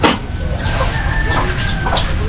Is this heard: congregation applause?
no